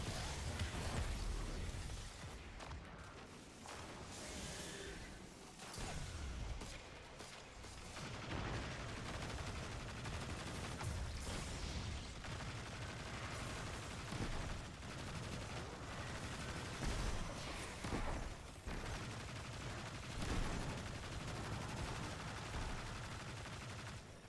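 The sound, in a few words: gunfire in the video game Destiny 2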